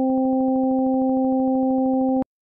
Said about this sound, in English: the simple sampler in Live, and I've loaded a sine wave into it.